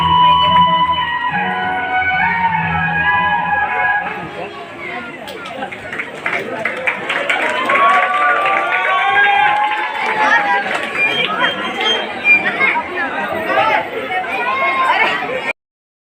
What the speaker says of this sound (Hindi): तो बहुत ज़्यादा भीड़ हो रही है